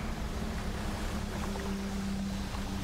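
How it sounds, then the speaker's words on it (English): Steady low engine drone of a small fishing boat in the game Dredge, running continuously at an even pitch with a faint watery wash over it, no talking. "this engine does go a little bit faster"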